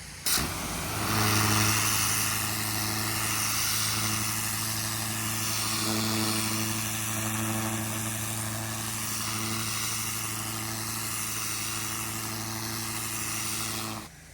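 A pressure washer fitted with a turbo nozzle sprays an asphalt driveway, producing a loud, continuous engine drone and hiss that holds steady for the whole stretch and then cuts off at the end.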